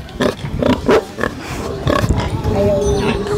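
A farm pig grunts and oinks in short repeated bursts close by, with a person talking over the sounds.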